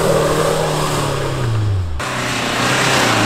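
An off-road SUV in sand mode climbs a sand slope. The engine revs loud and close, rises in pitch, drops sharply at a shift, then keeps droning under strain.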